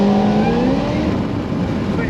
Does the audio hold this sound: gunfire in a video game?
no